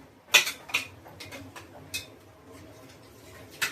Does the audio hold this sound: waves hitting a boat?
no